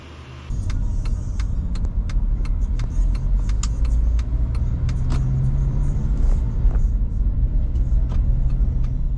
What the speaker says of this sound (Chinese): 接下来继续开车马不停蹄的赶场